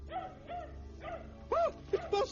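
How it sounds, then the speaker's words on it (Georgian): A cartoon dog barks in a short run of yips and woofs, fairly close, with a couple of sharper barks near the end, and dubbed voices talk during it. "ეს ბასტერია. ძაღლების განგაშია, კარი გაამაგრეთ."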